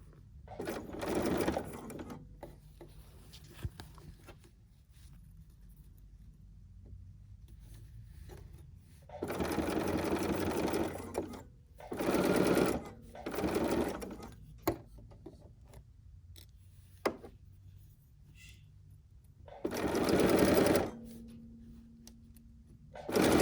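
A sewing machine runs in several separate bursts of rapid stitching along a previously sewn line, close and fairly loud, with quiet pauses between where pins are pulled and small handling clicks sound.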